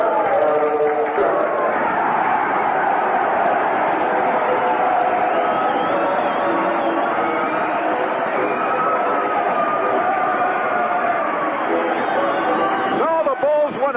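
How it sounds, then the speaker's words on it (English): A large crowd cheering in a basketball arena, a loud, sustained roar of many voices with a radio announcer talking over it throughout. "Listen to the crowd."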